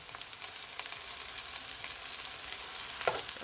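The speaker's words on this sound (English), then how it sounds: "you can fry them for at least 3 to 4 minutes, okay, on each side" Chicken pieces frying in a pan with a steady, close, crackling sizzle that holds throughout, with one slightly louder pop near the end.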